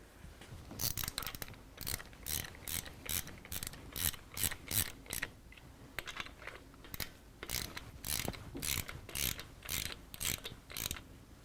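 A ratchet tightens a bolt threaded in with Loctite 262 on an S&S motorcycle engine cam job, producing rapid rhythmic ratcheting clicks in repeated bursts with brief pauses, close but quiet, and no speech.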